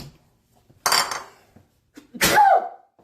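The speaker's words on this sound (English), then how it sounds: "Getting ready to sneeze." Two abrupt, loud bursts of breath about a second apart, the second a sharp explosive sneeze with a vocal tail, in an otherwise quiet room.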